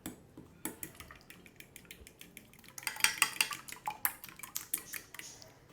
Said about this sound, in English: We'll mix this up well.